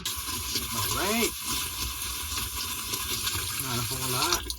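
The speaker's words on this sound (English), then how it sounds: "And then you add water." Water runs and pours into a cooking pot being prepared for boiling polar bear meat, a steady close gushing fill that carries on without pause.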